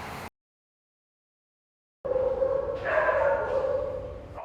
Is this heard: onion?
no